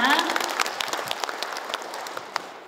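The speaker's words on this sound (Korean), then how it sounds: "박수 한 번 더 주십시오" Audience applause at a Gyeongsangbuk-do Confucian association ceremony, a dense burst of clapping from a crowd that starts strong and gradually tapers over a few seconds.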